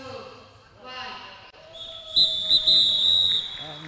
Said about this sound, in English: the first whistle is blown to signal the end of the first period